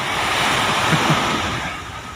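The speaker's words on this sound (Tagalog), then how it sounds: "Ayan, may alon na malaki-laki sa likuran" Steady roar of ocean surf with a broad rushing wash of breaking waves, loud and continuous, with some wind noise over the microphone.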